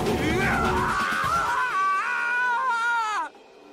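A drawn-out, high-pitched scream with a wavering pitch rings out in the Danganronpa video game, loud and close, then cuts off abruptly.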